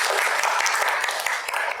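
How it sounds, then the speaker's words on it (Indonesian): Steady applause from a university class at the close of a tourism package design lecture, dense and continuous clapping throughout, fairly loud and close. "Tepuk tangan dulu."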